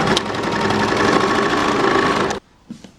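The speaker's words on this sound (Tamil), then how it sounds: "கீழே வரைக்குமே அடிச்சுக்கோங்க அப்படியே இன்னொரு தையல் அடிச்சுக்கோங்க" A sewing machine runs a steady, fast stitch along a baby frock seam for over two seconds, then stops abruptly, followed by a couple of faint clicks in near silence.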